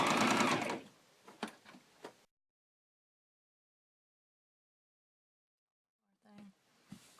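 A home sewing machine runs a top seam along the edge of a fabric bag, a close, dense mechanical whir that quickly stops, followed by a few handling clicks, silence, then a person talking briefly.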